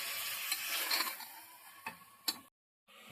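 Tomatoes sizzle steadily as they are sautéed in a pan for vegetable biryani, with a few sharp ladle taps cutting through the close, bright frying hiss before a brief silence.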